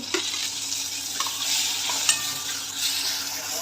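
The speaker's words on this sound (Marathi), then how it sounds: "बारीक चिरलेला टमॅटो पण टाकून घेऊ" Finely chopped tomato fries and is stirred with chili, coriander and cumin powder in a pan, a close, busy sizzle broken by scraping stirs and a few small clicks against the pan.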